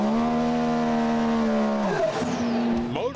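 A 500-horsepower, 1,800-pound side-by-side off-road vehicle screams at high revs, its engine note steady then dropping sharply as it shifts or lifts, before climbing again, loud and close.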